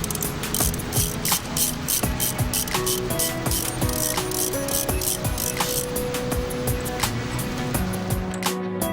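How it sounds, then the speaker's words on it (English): A ratchet wrench clicks fast and repeatedly as it unscrews fuel rail bolts on an Opel A20NHT engine. The clicking is close, loud and rhythmic, in continuous bursts with a few metallic clanks. "Unscrew the fuel rail bolts."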